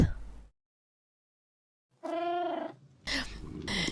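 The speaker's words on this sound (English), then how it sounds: "Thank you for the meow." A cat gives a single drawn-out, close meow after a moment of silence, followed by brief rustling noise.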